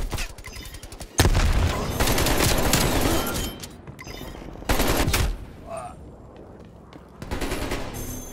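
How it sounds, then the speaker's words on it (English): A frag grenade goes off during a Moscow match of Call of Duty: Black Ops Cold War, one sudden loud blast amid heavy, sustained gunfire and booming combat noise. "Throwing frag."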